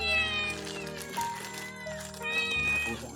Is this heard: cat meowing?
yes